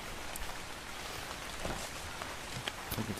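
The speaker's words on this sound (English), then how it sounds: "Why is it raining?" Steady rain falling in the Ark Survival Evolved video game, a soft even hiss of drops throughout with a few faint brighter taps near the end.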